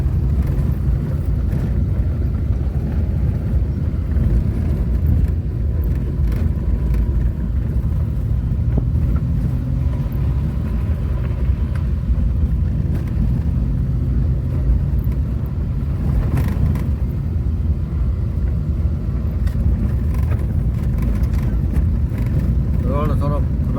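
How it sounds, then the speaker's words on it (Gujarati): A vehicle loaded with water and other goods creeps slowly along a rough road, giving a steady low engine rumble and rattling throughout, with people talking over it. "રોડ થોડોક રફ છે એટલે આપણે ગાડી ધીમે ધીમે હકાવીશું"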